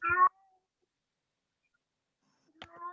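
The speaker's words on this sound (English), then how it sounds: "Oh, that sounds like a cat, or maybe a child." A cat meows twice, a short call at the start and another near the end, with near silence between them.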